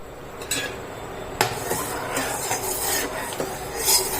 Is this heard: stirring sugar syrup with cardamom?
yes